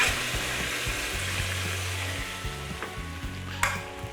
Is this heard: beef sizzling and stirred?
yes